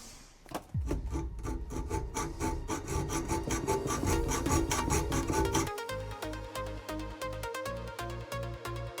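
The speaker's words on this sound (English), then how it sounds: "the first thing we need to do is actually chop that dipstick thing, isn't it?" A blade or file cuts through an engine's metal dipstick tube in fast, rasping strokes that later slow into heavier, evenly spaced strokes. The sound is close and continuous, with no talking.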